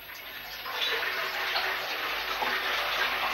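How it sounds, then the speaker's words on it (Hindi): Cold water pouring steadily for bathing, a continuous loud gush like a tap filling a tub, unbroken throughout with no talk. "अब ठंडे ठंडे पानी से नहाना चाहिए।"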